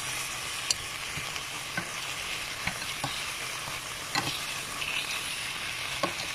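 Food seasoned with pepper sautéing in a pan, a steady dense sizzle with occasional soft taps and scrapes from stirring, close and even in level, without speech.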